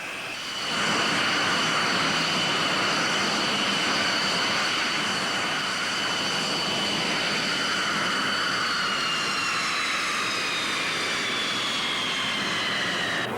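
Fighter jet engines during a takeoff roll, a loud sustained roar with a high whining tone that slowly shifts in pitch, building suddenly after a brief quiet start and holding steady with no talk.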